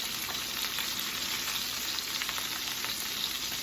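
Fish frying in a pan in a home kitchen during a keto meal, a steady close sizzle with continuous crackling and spitting oil throughout, no talking over it.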